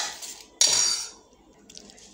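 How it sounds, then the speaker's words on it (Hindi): A spoon scrapes ground chana dal batter out of a steel mixer grinder jar, with one sharp metallic clatter and scrape followed by fainter clinks, no talk. "तो हमने जार से सभी को खाली कर लिए हैं।"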